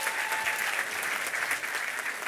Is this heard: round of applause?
yes